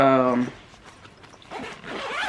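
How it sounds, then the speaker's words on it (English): A zipper runs around a travel bag so a section comes apart, heard as two scratchy zipping passes after a brief voice at the start. "So you just zip it around and see it disconnects"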